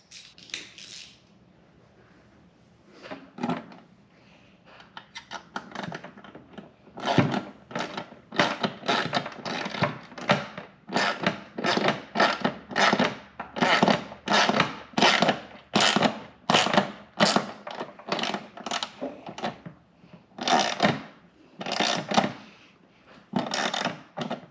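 A ratchet tightening a nut onto a bolt on a Jeep JL Wrangler tire carrier, a long run of close, rapid metallic clicks coming in steady bursts, with no talking.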